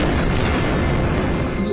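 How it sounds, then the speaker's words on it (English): Relentless explosions in Gaza City at night, heard as a dense, continuous rumble of booms and bursts that keeps a steady loud level throughout, with no voices. "relentless explosions and panic in the streets as Israel fights back"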